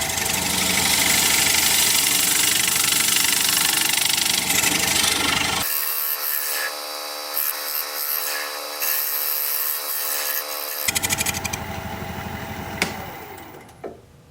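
Steady abrasive scraping and whirring of a dovetail chisel cutting wood on a spinning lathe, continuous and close, with the motor hum dropping out midway before resuming.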